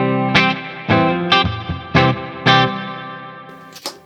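A rhythm clean electric guitar preset on a REVV Dynamis amp: five strummed chords in a steady rhythm, each ringing briefly and decaying, with a few lighter picked notes between them.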